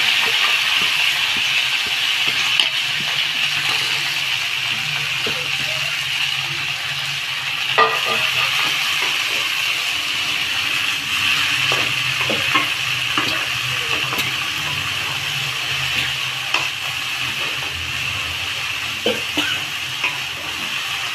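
Fenugreek curry for a pickle fries in a pan with a steady, close sizzle, while a spoon stirs and scrapes it in irregular knocks throughout.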